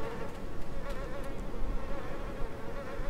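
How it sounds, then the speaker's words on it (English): Flies buzzing in the game Little Nightmares 2, a close, continuous insect drone that wavers steadily throughout, with no talk. "Buzzing flies."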